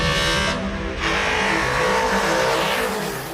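A 1956 Mercedes 8-cylinder racing-derived engine, over 300 horsepower, roars close and loud, a deep throaty growl that briefly cuts, then surges back and holds a rough sustained tone.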